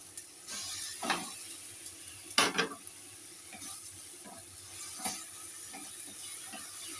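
Egg curry being stirred in a pan after salt goes in, giving a few scraping, clattering spoon strokes over a soft sizzle, with one louder scrape in the middle.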